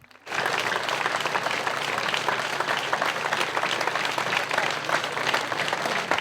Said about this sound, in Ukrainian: В останню путь Юрія проводжали оваціями